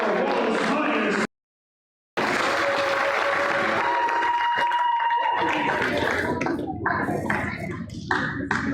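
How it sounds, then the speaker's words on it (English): A crowd at a girls' varsity sports event applauds the Wallace Miners, loud sustained clapping and cheering that breaks off briefly, then resumes and thins out toward the end. "Big round of applause for our Wallace Miners."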